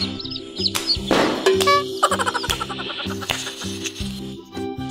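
Chickens cluck and chirp in short bursts inside a colourful farm-themed video game, sitting over steady rhythmic background music.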